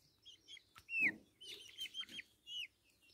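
Dark Brahma chickens give short clucks and higher chirping calls, a scattered series of brief, fairly close notes over a quiet background.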